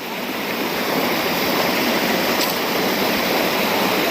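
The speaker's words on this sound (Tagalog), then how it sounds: "Tuloy-tuloy ang agos ng tubig." Steady rushing water flows without pause at a lagoon in Tanay, Rizal, a dense broadband wash like a stream or small waterfall close by, with no voices.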